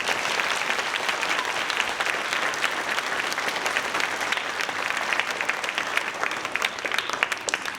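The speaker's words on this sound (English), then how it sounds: "if you could give him a round of applause" A crowd at a Veterans Day celebration claps for several seconds, a dense and steady round of applause that holds even throughout.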